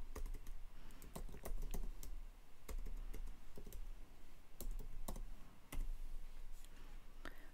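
Steady typing on a computer keyboard, with quick irregular key clicks and occasional sharper taps, close and fairly quiet with no talking.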